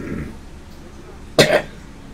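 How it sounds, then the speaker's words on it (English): A man with COPD gives a single sharp cough, close and fairly loud, after a stretch of faint low background sound, with no other voices. "so I cough every once in a while"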